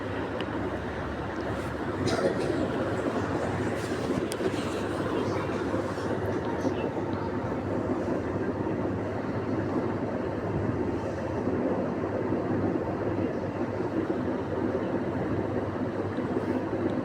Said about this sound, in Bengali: এই দেখেন, আমাদের মেট্রো রেলটা ছেড়ে দিয়েছে।